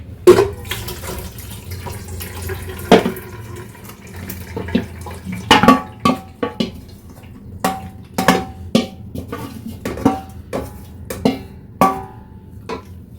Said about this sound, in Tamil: இப்போ இதில் அப்படியே வந்து வடிகட்டிடுறோம்